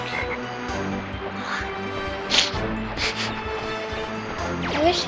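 Cartoonish frog croaks sound from the Crash Bandicoot 3 video game over steady game music and effects, with a few louder thumps scattered through.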